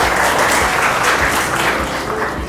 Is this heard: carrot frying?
no